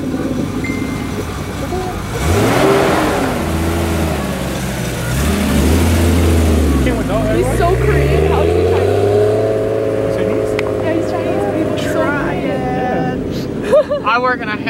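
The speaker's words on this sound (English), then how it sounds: "R32 anti-lag, two-step there" Nissan R32 Skyline GT-R with an anti-lag two-step system, a loud engine revving and sweeping up and down, with wind buffeting the microphone and a few sharp pops near the end.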